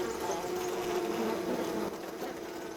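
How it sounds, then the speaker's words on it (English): Mason bees buzz among old stone temple ruins in the Italian countryside, a steady, dense drone that stays constant throughout, fairly close and with no talking. "Mason bees build new breeding cells from a pulp of sediment and saliva."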